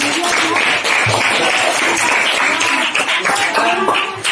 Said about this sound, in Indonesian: Tepuk tangan dulu dari kelompok 6.